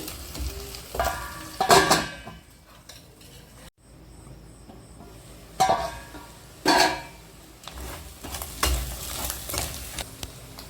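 Spoon stirring egg fried rice in a home kitchen pan, with scraping strokes and clinks in several bursts over a quiet sizzle, close and fairly loud.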